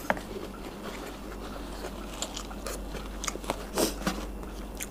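Crunchy biting and chewing of Thai canned fish salad with whole roasted chilies, close and fairly quiet, with irregular crisp bites and soft mouth sounds over a steady low hum, no talking.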